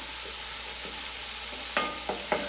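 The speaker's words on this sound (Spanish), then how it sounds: "Freímos hasta que empiece a cambiar de color" Oil frying in a pan while cooking arroz con pollo, a soft steady sizzle with several sharper bursts of stirring or scraping toward the end, heard alone and fairly quiet.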